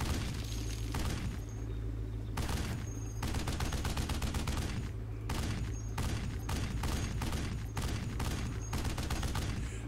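Video game gunfire from Hunting Fields of Jackals plays loud and close, starting with a few separate shots before settling into rapid bursts of sustained automatic fire with short pauses between strings.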